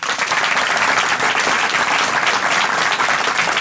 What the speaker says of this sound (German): Dafür ein extra Applaus, das ist super.